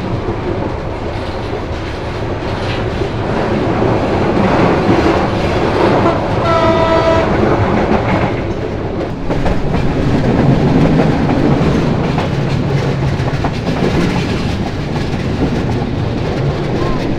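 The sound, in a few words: train running on the railway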